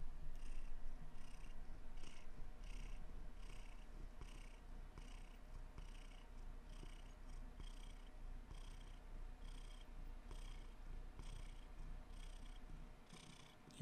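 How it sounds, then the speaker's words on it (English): A cat purrs steadily right up against a microphone, a close, low rumbling drone with rhythmic pulsing breaths, continuing alone without any talk. "As you purr near my microphone, you wanna purr into the mic"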